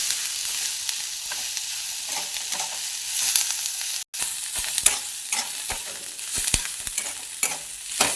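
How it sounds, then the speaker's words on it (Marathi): Onions sautéing in oil with turmeric and curry leaves, a steady close crackling sizzle broken by scraping stirs of a spoon and a brief dropout midway, with no voices. "कांदा परतत आलेला आहे, थोडीशी हळद टाकून घ्यायची, कढीपत्ता पण टाकायचा, परत असं मिक्स करून घ्यायचं."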